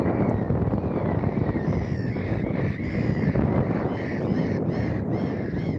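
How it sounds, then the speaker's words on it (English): Birds call outdoors on a morning walk, with a few harsh crow-like caws rising through heavy, steady wind rumble on the microphone. "Birds, man."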